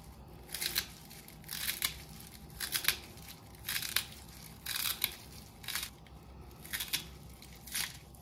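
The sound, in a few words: chopping parsley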